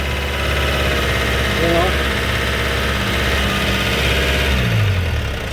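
Mazda WL diesel engine with an injection pump and injector problem running steadily close by, a dense low rumble with a slight rise in revs near the end, as someone speaks briefly over it.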